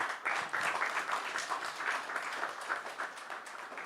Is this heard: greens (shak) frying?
no